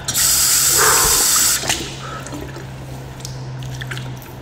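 Water sprays hard for about a second and a half while shampoo is rinsed off, then cuts out, leaving faint drips and low hum close by.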